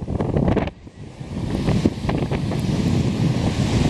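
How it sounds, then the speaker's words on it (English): Strong wind buffeting the microphone beside Lake Superior at a campground shore, with a rushing roar of waves surging in, loud and continuous, briefly dipping before building again. "That is Lake Superior right there. She's coming in strong, coming in hard."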